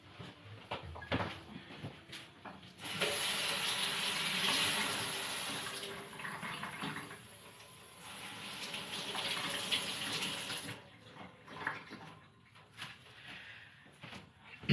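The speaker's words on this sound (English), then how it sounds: "Let me wash them one more time." Produce rinsed under a running kitchen tap, with a steady close gush of water that starts after a few seconds, runs for about eight seconds, then gives way to drips, handling and a cupboard-like knock.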